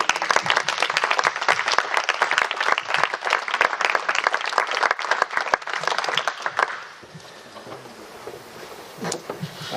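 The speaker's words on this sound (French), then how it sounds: "Moi, je trouve que quand même, on peut vous applaudir" An audience applauds the speaker at a startup meetup, with loud, crisp clapping from many hands for about six seconds that then fades into a quieter room with a few scattered claps and a brief voice.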